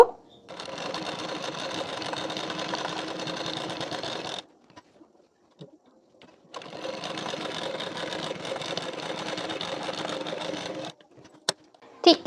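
A sewing machine stitches a blouse belt piece in two long, steady runs of rapid mechanical whirring, separated by a short pause with faint handling clicks.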